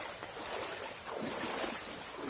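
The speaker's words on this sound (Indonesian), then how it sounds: "Sungainya kecil cuma tidak dalam." A small, shallow river flows through the Ngarai Rakik canyon at Ladang Laweh. Its steady, broad rushing and burbling water is close and continuous, with some wind noise and no voices.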